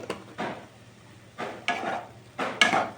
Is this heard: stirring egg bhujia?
yes